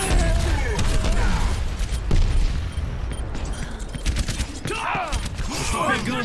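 Dense weapon fire in Overwatch, loud continuous crackling shots with mechanical clanks over game noise, and a voice speaking amid the action.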